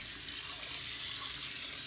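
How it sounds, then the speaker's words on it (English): Water is poured into a mixing bowl while making Indian cucumber pancakes, giving a steady soft splashing trickle that runs evenly and quietly with no talking. "And then you put a little bit of water."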